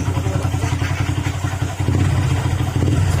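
A scooter engine with an oil leak idles steadily with a low, chugging rumble, close by, holding an even rhythm with a slight rise in level partway through.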